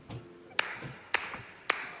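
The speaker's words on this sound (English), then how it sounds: "The clap is crazy" Crisp clap sample in a hip-hop beat, three sharp evenly spaced hits about half a second apart over a soft low backing.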